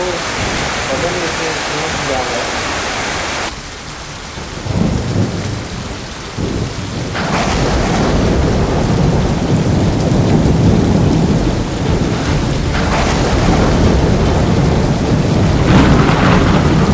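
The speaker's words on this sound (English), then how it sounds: "We watched the hurricane approach for as long as we could before we took shelter in the house as the wind got stronger and the rain got heavier" Heavy hurricane rain and roaring wind as Hurricane Eric makes landfall in Mexico, a Category 3 storm with 125 mph winds, a dense continuous downpour and gusts that briefly ease, then swell louder and steady for the rest of the stretch.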